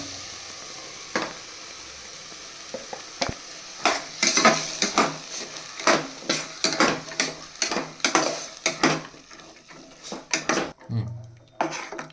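Ground spice paste tipped into a hot pan and frying for a Kannada-style sambar, with repeated sharp spoon and pan clatters over a steady close sizzle, no talking.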